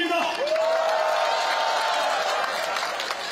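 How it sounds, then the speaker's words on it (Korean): Audience applause and cheering fill a campaign event hall in Korea, a steady dense wash of clapping lasting a few seconds, with a sustained tonal sound gliding over it. "다시 한번 큰 박수 부탁드립니다."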